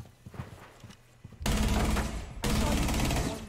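Rapid bursts of gunfire in Rainbow Six Siege, two loud sustained volleys of automatic fire following quieter clicks and shuffling, close and dense.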